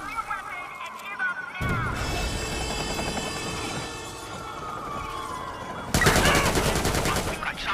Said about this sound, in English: We've got shots fired.